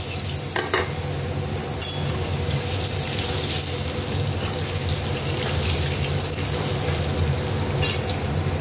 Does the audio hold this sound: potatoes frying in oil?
yes